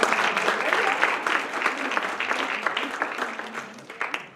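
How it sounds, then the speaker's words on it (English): Event audience breaks into applause, a full, loud burst of many people clapping that begins strongly and gradually thins, with some voices mixed underneath. "Can we get a round of applause?"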